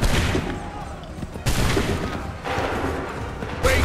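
Musket volleys fire in the Assassin's Creed III Remastered video game: about four loud, sharp crashing bursts, roughly a second apart, each trailing into a rumbling decay that blends with ongoing battle noise.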